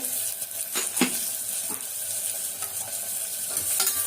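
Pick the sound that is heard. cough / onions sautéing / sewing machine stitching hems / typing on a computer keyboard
onions sautéing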